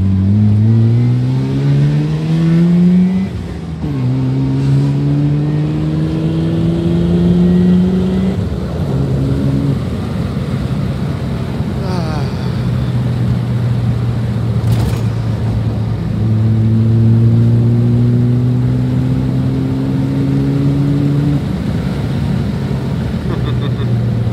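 A car engine revs hard while driving, its loud note climbing through several pulls with brief drops between gear changes and steady droning in between, close and continuous.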